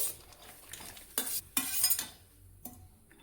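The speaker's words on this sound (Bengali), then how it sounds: "সিদ্ধর জন্য দিয়ে দিলে একটু নাড়াচাড়া করে দিব" Pasta stirred in a pan of hot water on the stove, heard as several close metal scrapes and clinks of a spoon against the pan in short, irregular bursts with quiet gaps.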